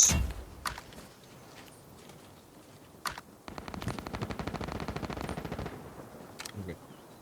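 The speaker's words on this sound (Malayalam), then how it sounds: "നന്നായിട്ട് വെടിയൊക്കെയുണ്ടല്ലോ" Scattered single shots followed by a sustained rapid burst of automatic gunfire in the video game Delta Force Mobile, somewhat distant, with a few sharp cracks near the end.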